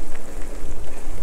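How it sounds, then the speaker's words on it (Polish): Rain falling during a city delivery ride in Poland, a dense, steady hiss of drops with soft irregular patters, loud and close throughout the brief moment. "Szkoda tylko, że w deszczu."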